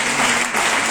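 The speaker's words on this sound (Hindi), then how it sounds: "एक जोरदार ताली होनी चाहिए।" A meeting audience breaks into dense, loud applause, many hands clapping together in a steady roar for just under a second.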